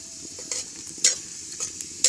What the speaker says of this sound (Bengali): এবার শুকনো লঙ্কা আর কালো জিরে দিয়ে দেবো।